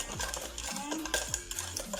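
A spoon stirs instant coffee with hot water briskly in a bowl for dalgona coffee, scraping and clinking against the sides in a quick steady rhythm, close by.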